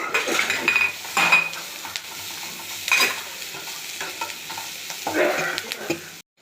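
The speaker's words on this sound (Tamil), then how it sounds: "இப்போ பொறிச்சு வச்சு இட்லி கலந்து கலந்துக்கிடலாம்" Leftover idli fried with curry leaves is stirred in a pan, the utensil scraping in bursts over a steady sizzle of hot oil, close and with no talking.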